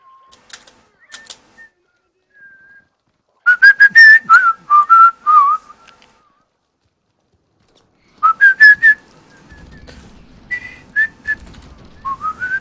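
A person whistles short melodic phrases, bursts of quick rising and falling notes separated by silences, close and clear, with faint rustling noise near the end.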